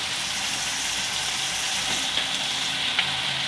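Tomatoes sizzling steadily in a hot pan for a Gujarati fafdi gathiya curry, a dense, even frying hiss close by with a couple of faint pops, no voices.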